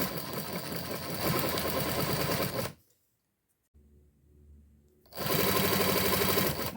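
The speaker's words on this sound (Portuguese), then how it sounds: "E passar uma costura até o final." A sewing machine stitches through plastic sheets and faux leather in two close, loud bursts of rapid, even mechanical stitching, with a brief pause and a few quiet handling sounds between them.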